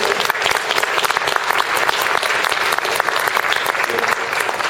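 A large audience at a Won Buddhist ceremony breaks into sustained, dense applause, with steady loud clapping filling the hall throughout.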